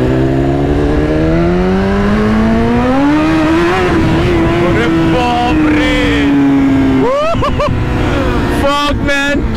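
A BMW motorcycle engine with a quick shifter revs loudly and continuously, pitch climbing through smooth gear changes with brief dips near the end as shifts cut in.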